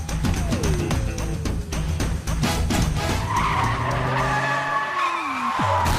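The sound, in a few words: car skidding and crashing into another car, movie scene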